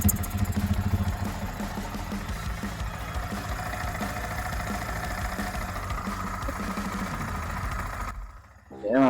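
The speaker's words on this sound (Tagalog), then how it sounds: "madungog ninyo ato ang motor na nagandar" Close by, a Yamaha MT15 motorcycle idles with a steady mechanical hum and faint knocking that holds for most of the stretch before dropping away near the end, with a voice speaking over it.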